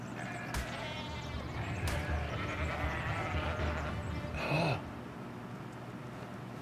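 Sheep bleat in a modded ARK video game, several wavering bleats scattered across the clip at moderate distance, one louder cry near the end, over steady ambient game noise.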